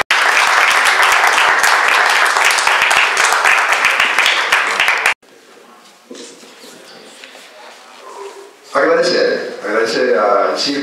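Audience applause at an awards ceremony, a loud, dense round of clapping for about five seconds that stops abruptly, followed by quiet room noise and then a person speaking.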